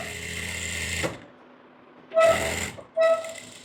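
A sewing machine stitches a pocket on ladies' trousers in three close bursts: a long steady whirring run, a pause, then two short runs with a brief gap between them.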